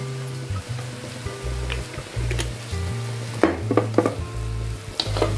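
Tofu frying in olive oil in a pan, a steady close sizzle with scraping stirring strokes and a few clinks of utensil against the pan, no voices.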